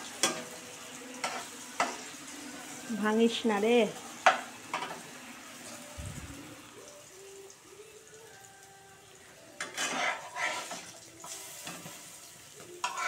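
Cauliflower fritters sizzle and fry in a pan while they are stirred and turned, a steady crackle running under a woman's brief speech and scattered kitchen clatter.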